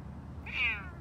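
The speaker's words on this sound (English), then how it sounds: "Beecher's also a Savannah cat." A Savannah cat gives a single short, clear meow, close and alone, rising then falling over about half a second against faint background noise.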